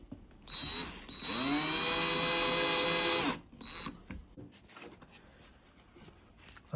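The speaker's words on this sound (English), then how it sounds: "These are very small wood screws, but they're going into a hardwood, so it's just going to use a power driver." A power driver drives small wood screws into hardwood during a Maxitrak 5-inch Wren locomotive kit build. Two close whirring bursts, a short one and then a longer one, rise in pitch, followed by quiet handling clicks.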